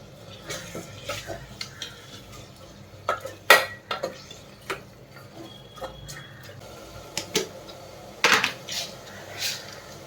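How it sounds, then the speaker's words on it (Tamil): Tomatoes sautéing in a pan for South Indian tomato rasam, with a spoon stirring and scraping at intervals, sharp metallic clinks standing out over a low, steady background. "தக்காளி நல்லா வதங்கட்டங்க"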